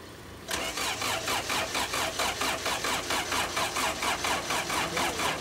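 A 1986 Toyota Corolla engine cranking steadily with a rhythmic starter whir, repeating evenly for several seconds without catching, close and fairly loud with no talking.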